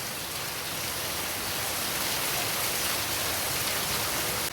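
Steady rain pours down on a rainy day in Kerala, a dense, unbroken hiss that holds at an even level from start to finish with no voices.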